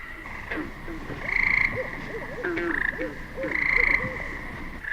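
Tree frogs croak and trill in a steady, overlapping chorus, swelling louder in pulses. Close and continuous, with no voices.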